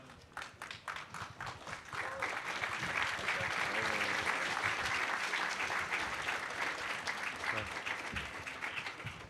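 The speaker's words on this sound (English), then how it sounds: "polite applause would be appropriate" Audience applause at the closing ceremony of the HOPE X hacker conference, a dense, steady clapping from a large crowd that swells and holds throughout, with some voices mixed in.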